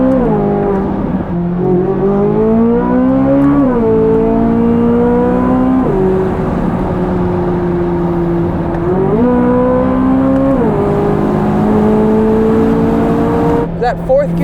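C8 Corvette Z06 engine pulling hard under full throttle from inside the cabin, loud and continuous, with pitch climbing through several rising sweeps and dropping at each gear change.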